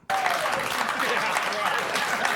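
Crowd at a live show applauding in a played-back recording, a sudden burst of dense clapping that starts abruptly and continues steadily at full volume.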